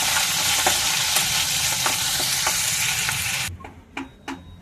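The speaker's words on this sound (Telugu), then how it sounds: "వెండేలు ముందు ఫస్ట్ వేయించేసుకోవాలి." Okra frying in a pan, a loud continuous sizzle with occasional stirring clacks that cuts off abruptly near the end, leaving a few sharp utensil knocks against a quiet background.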